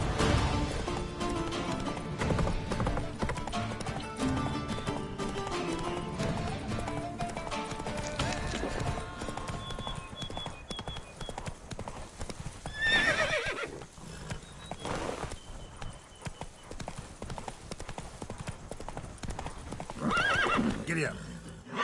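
A horse in The Witcher 3 gallops with rapid, steady clip-clop hoofbeats, neighing and whinnying at moments, set against game music and ambience, loud and close.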